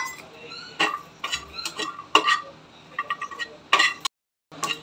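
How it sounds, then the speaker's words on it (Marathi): Garlic dry-roasting in a pan after peanuts, heard as a string of irregular clinks and scrapes of a spatula against metal with faint crackle between strokes, then a brief silence. "त्याच पॅनमध्ये आपण लसूण भाजून घेऊया।"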